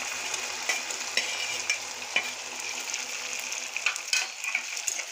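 Chopped tomato and spices for a dhaba-style paneer masala fry in a pan with a steady bright sizzle, broken by regular scraping stirs of a spoon.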